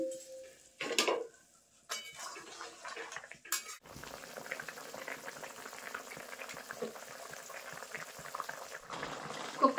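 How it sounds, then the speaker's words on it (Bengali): Gravy for soybean kofta curry boils in a pot. A few utensil clanks and pauses give way to continuous, close bubbling that runs steadily to the end. "ঝোল কিন্তু খুব ভালোভাবে ফুটে গেছে।"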